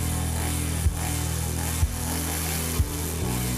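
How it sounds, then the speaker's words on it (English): A chainsaw runs steadily at a loud, droning idle, close by, with three brief revving surges at roughly one-second intervals and no talk over it. "That's why I bought the chainsaw."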